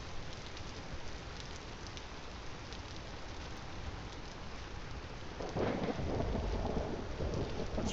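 Steady rain and thunder roll through a stormy scene in the survival game Vintage Story, a broad continuous wash that swells louder near the end with a deeper rumble, heard alone without voices.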